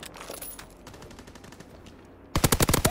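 The Nambu machine gun in Call of Duty WW2 fires a loud, rapid burst of evenly spaced shots, preceded by quieter distant gunfire and battle noise.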